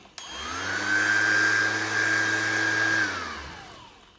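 An Einhell TE-RS 18 Li cordless orbital sander switches on, revs up to a steady loud whine with a high pitched tone, runs for a few seconds and then spins down, close by with no talking.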